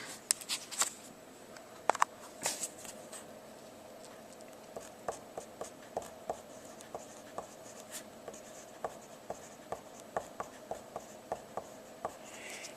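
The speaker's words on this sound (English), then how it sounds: "So I could go ahead and write that down." Pen scratching on paper nearby, quiet strokes and taps in a steady irregular rhythm with no voice.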